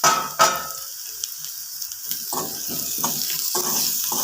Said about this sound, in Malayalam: ചുവന്നുള്ളി ഏകദേശമൊക്കെ വഴന്ന് വന്നിട്ടുണ്ട് ഇതിലേക്ക് വെളുത്തുള്ളി ഇട്ട് കൊടുക്കാം